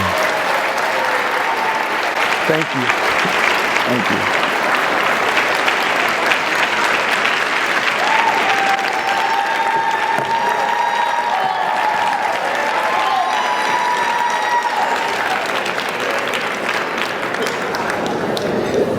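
Sustained audience applause at an annual Dr. Martin Luther King event honoring a speaker, a dense steady wash of clapping throughout, with a voice briefly giving thanks over it.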